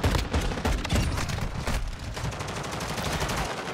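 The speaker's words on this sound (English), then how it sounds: "Two shots." Pistol fire in Modern Warfare 2 on Xbox, a dense run of sharp booming shots mixed with other gunfire, loud and close, with the game's constant combat noise underneath.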